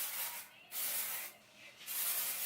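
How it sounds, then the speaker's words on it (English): Two bursts of hissing aerosol hair spray, a style-extending setting spray spritzed over the hair, each about half a second to a second long, with a short pause between them. "I'll just give a good spritz all over my hair"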